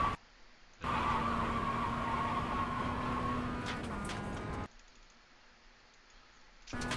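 Mazda MX5 race car in iRacing at Motorsport Arena Oschersleben, its engine holding a steady rising drone under building throttle for several seconds, then dropping away near the end.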